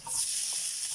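Garlic drops into very hot cooking oil, a bright, steady sizzle and hiss that starts quickly and holds for about a second.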